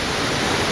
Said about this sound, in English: standing on top of Barkana Waterfalls. This waterfall is near Agumbe in Karnataka